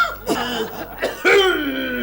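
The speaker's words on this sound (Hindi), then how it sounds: "अरे ये कौन खांस रहा है?" A person coughs several times up close, short harsh bursts, the last trailing into a rough voiced sound.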